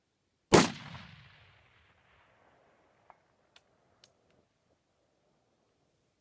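An LMT AR-15 rifle fires one loud, sharp shot at a long-range outdoor setting, its report rolling away into a long fading echo, followed a few seconds later by several faint distant pops.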